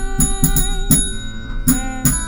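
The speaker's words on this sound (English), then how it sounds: "You guys have to do the honors and ring that bell." A small bell rings repeatedly, several bright chimes in quick succession with lingering metallic overtones, close and fairly loud.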